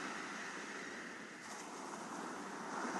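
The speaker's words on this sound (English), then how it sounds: "You might even notice it sounds like the sound of these waves." Ocean surf washing onto a shore sounds as a continuous broad hiss that is loud and close, swelling gently toward the end with no voices present.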